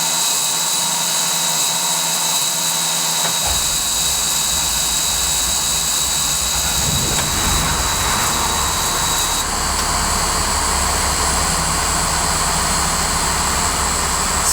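A converted school bus engine starts up and settles into a loud, steady diesel roar while warming up, with a constant high whine running throughout and no talking.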